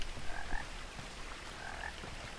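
A frog croaks in the video game What Remains of Edith Finch, two short paired croaks about a second apart over a steady hissing ambience.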